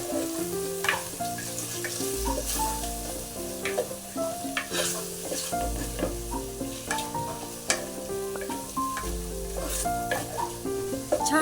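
Spices, red chilli powder and turmeric, sizzle as they are stir-fried in a pan for prawn biryani, with a steady close crackle and repeated scraping stirs, while music plays throughout.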